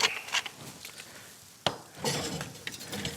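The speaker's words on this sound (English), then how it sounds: "Give a little whisk to this." Eggs beaten with milk and black pepper, with a whisk or fork clinking and scraping against a bowl in short irregular bursts, quiet and close.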